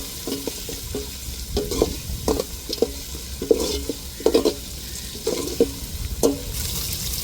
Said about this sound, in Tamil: இப்போ அரைச்சி எடுத்த இஞ்சி பூண்டை நல்லா வதக்கி வச்சுக்கிடுவோம்